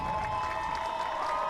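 A crowd in the stands cheers and claps in the final seconds of a high school girls' varsity field hockey playoff game, a sustained mix of shouting and applause with a steady tonal hum underneath.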